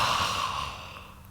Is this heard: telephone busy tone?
no